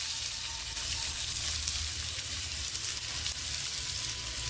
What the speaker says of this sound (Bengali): পেঁয়াজগুলো, মানে হালকা একটু ভেজে নেব, খুব বেশি ভাজবো না।